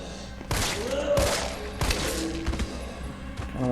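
Gunfire from the Resident Evil 3 video game cracks out in a rapid series of sharp shots, some clustered in quick bursts, loud and up front over a low game ambience, with no talking.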